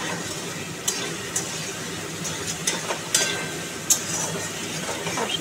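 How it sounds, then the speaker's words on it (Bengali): Spice masala being stirred and fried in a pan for a prawn curry, with soft scraping strokes and occasional sharp clinks of the spoon against the pan over a low steady sizzle. "এটাকে ভালো করে কষিয়ে নেব।"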